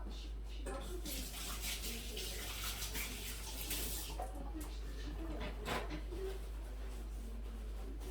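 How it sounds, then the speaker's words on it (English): A kitchen tap runs steadily while hands are washed beneath it, giving a continuous close rush of water with slight splashing changes and no talking. "I'm going to wash my hands real quick."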